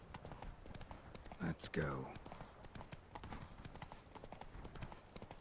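The horse Roach clip-clops steadily across the ground in The Witcher 3, a regular hoof rhythm under someone speaking briefly.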